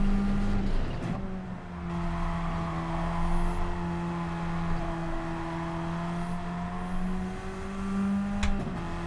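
Radical race car in Gran Turismo 7 droning at steady revs with strong engine harmonics, then a blip and shift down into third gear near the end, loud and close, no talking.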